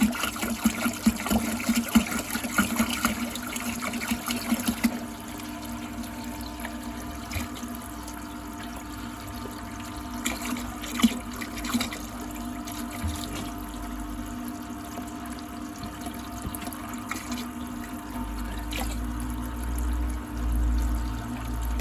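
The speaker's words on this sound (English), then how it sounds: "It's pumping around fresh water at the moment." Fresh water trickles and pours steadily through the cooling system of a Volvo Penta TAMD41-P marine engine, a low continuous gurgle with a pump-like hum that swells slightly toward the end.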